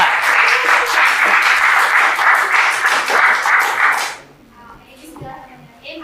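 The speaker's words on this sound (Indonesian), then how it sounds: "tepuk tangan untuk kelompok 2" A crowd claps loudly together for about four seconds before the applause fades, leaving quiet room noise and a few faint sounds.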